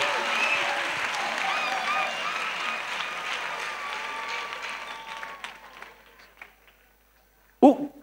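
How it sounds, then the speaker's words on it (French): A church congregation claps for Jesus in a strong burst of applause that gradually thins and fades into quiet, followed by a brief voice at the very end. "Clap for Jesus."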